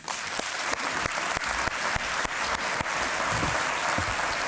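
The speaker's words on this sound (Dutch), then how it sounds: "Dames en heren, graag een groot applaus voor Mrs. Spice Up Your Life, Audrey van Ham." Studio audience on a Dutch TV talk show giving a big round of applause to welcome a guest, a loud, dense and sustained roar of clapping punctuated by a few sharp, distinct claps.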